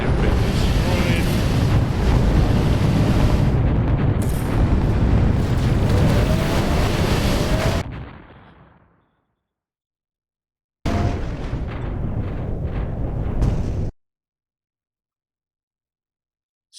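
Explosions as an enemy fleet is destroyed in the space game Free Worlds: a long, loud roaring blast rumbling for several seconds and fading to silence, then a second shorter burst that cuts off abruptly.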